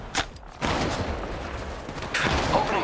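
Gunfire in the mobile shooter Apex Legends, a short early shot followed by sustained rapid weapon fire with another sharp burst near the end, loud and close.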